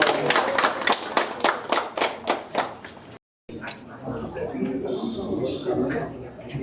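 Group hand clapping at an iPhone 16 sales launch inside a phone store in Nellore, a brisk run of close claps for about three seconds before a brief cut, then people talking.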